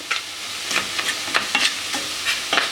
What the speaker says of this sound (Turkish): Ve duyuyorsunuz bu sesi etleri koyunca duymanız lazım.